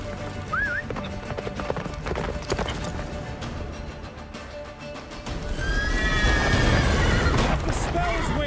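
Horse from the video game The Witcher 3 whinnies and clip-clops at speed through a blizzard, hooves and neighs fairly close over a loud, dense bed of wind and game effects.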